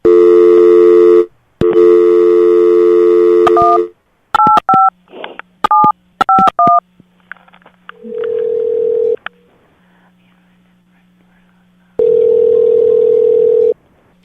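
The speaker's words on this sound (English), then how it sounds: "Dial tone time." A steady telephone dial tone hums in bursts, broken by sharp DTMF keypad beeps as a number is dialed, then a ringback-like tone pulses twice before the line connects.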